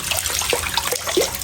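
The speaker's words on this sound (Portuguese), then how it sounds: "Pegar aqui um pouco de água da torneira mesmo." Tap water runs steadily from a faucet as water is collected for feeding birds, a continuous close splashing hiss with no voices.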